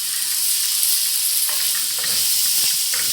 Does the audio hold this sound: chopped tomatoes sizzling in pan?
yes